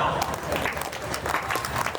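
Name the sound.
audience clapping at comedy poetry show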